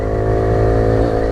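A Kawasaki Z125 Pro motorcycle engine blips loud and close during a downshift, a steady buzzy drone whose pitch rises then dips briefly near the end, with no talk over it.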